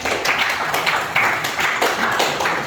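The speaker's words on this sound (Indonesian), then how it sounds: "kita berikan aplaus untuk kelompok 3" A classroom group claps for group 3 after their presentation, a brisk run of uneven hand claps close by, lasting a few seconds.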